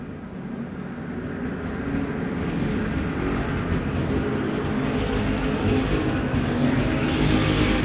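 Street stock race cars circle the Perris Auto Speedway dirt oval in a main event, their engines blending into a continuous, heavy rumbling drone heard from a distance, swelling slightly as the pack passes.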